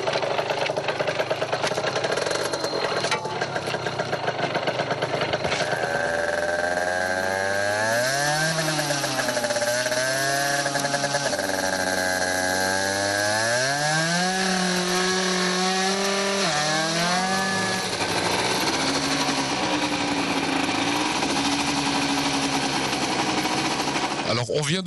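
Derestricted moped with a modified exhaust revving on a test bench, its small two-stroke engine buzzing loudly and rising and falling in pitch through repeated throttle sweeps, reaching about 85 km/h, with voices faintly underneath.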